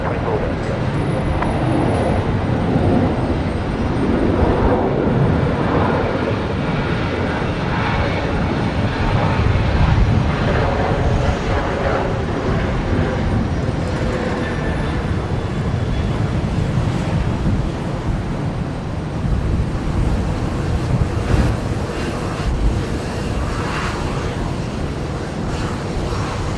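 An airliner takes off from runway 01 left at Brisbane Airport, its jet engines a broad, steady roar that swells and holds throughout, rough with wind buffeting and faint radio chatter beneath.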